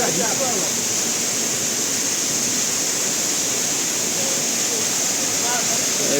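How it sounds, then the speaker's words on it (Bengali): A waterfall roars during heavy monsoon rain in the red-soil hills of Cox's Bazar. Dense rushing water fills the whole stretch as a loud, steady wash with no clear breaks. "এইখানে এই টাইমে আসলে ঝর্ণা দেখা যায়"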